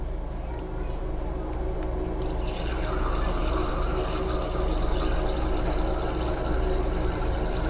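A steady stream of water pours into a container, a continuous rushing splash that grows brighter after a couple of seconds, with a low hum beneath.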